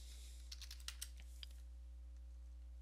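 Quick run of soft, close computer keyboard keystrokes on a Windows 10 PC, about a dozen clicks in a brief burst, then quiet hum.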